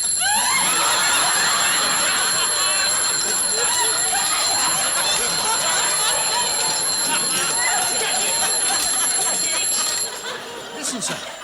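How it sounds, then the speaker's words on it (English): A gold hunter pocket watch rings its alarm, a continuous high metallic ringing that persists for about ten seconds and then cuts off, with people chattering in a room around it. "Sounds like an alarm clock."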